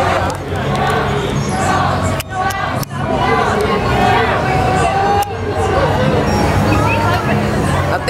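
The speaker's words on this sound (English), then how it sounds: "Oh my God, people's booing." A large crowd at the San Diego County Fair reacting with booing and loud babble, a dense wash of voices close by with a few sharp knocks, and nearby talk over it.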